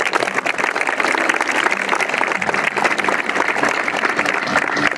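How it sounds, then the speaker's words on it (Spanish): An audience applauds at a gathering at Villa de los Niños in Guadalajara, welcoming a speaker with dense, even clapping that holds steady and fairly loud throughout. "Recibámoslo con un fuerte aplauso."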